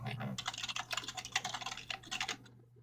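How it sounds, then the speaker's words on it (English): Quiet, rapid typing and clicking on a computer keyboard come as a dense run of sharp keystrokes lasting a couple of seconds, then stop abruptly into silence. "We could hear you clicking around"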